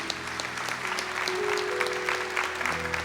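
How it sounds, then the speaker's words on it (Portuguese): A church congregation breaks into steady, dense applause during Mass, many hands clapping together from a fairly close vantage, a continuous bright patter lasting throughout with no voices over it. "Vamos aplaudir a palavra de Deus."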